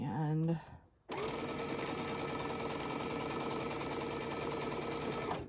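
A sewing machine chain pieces quilt units in one continuous, steady run of close mechanical stitching that follows a brief moment of speech at the start.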